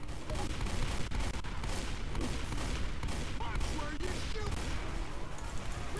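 Shotgun blasts and other gunfire ring out in the Left 4 Dead 2 zombie shooter, a dense run of sharp repeated shots over a busy game background.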